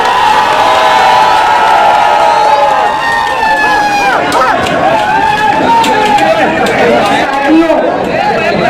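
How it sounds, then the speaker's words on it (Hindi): A large crowd at a political rally cheering and shouting loudly, with a dense, continuous roar of voices and whoops filling the space throughout. "भरपूर तालियां बजाएं शान हिंदू मैडम के लिए"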